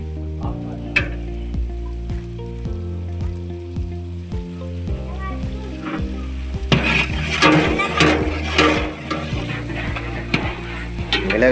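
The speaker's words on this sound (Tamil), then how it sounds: "நல்லா வதக்குறாங்க" Chili powder and turmeric sautéing in a large pot for a 35 kg batch of plain kuska, with steady frying sizzle and scraping stir strokes under low background music, growing louder and busier in the second half.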